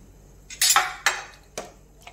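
Washed tamarind dropped into a cooking pot for a sweet chutney, giving a few sharp metallic clanks and clinks of utensil against pot, close and clear with no talk.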